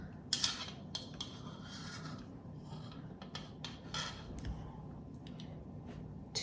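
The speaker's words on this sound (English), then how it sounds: "Spatula like this handy" A spatula scraping natural peanut butter, heard as short intermittent rasping strokes up close in an otherwise quiet kitchen.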